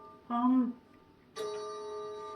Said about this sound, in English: Our cuckoo clock.